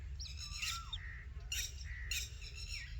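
Tiny baby bird chicks in an okra field squawk in short, shrill, rising calls, three clear bursts spaced about a second apart over a low rumble of outdoor background noise.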